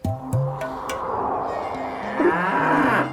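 A buffalo lets out several deep, drawn-out moos close by, one low bellow after another in a short rural scene, with faint background noise.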